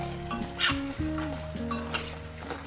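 Wheat flour cut snacks spiced with chilli deep-fry in hot oil with a soft, steady sizzle, joined by occasional stirring scrapes and light clinks from a utensil, close and fairly quiet.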